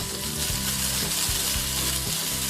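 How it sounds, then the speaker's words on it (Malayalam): Bilimbi (tamarind) and chili frying over low heat for a pickle give a loud, dense, continuous sizzle with soft stirring underneath, no talking. "നമുക്ക് പുളി ഇട്ട് കൊടുക്കാം. മുളക്, ഇതെല്ലാം ഇട്ടൊന്ന് ഇളക്കാം."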